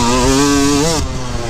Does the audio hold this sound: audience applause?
no